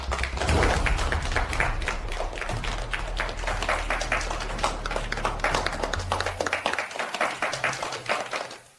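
An audience applauds warmly to welcome a company director and board chairman at a corporate gathering: sustained, dense clapping from many hands over a low rumble, tapering off near the end.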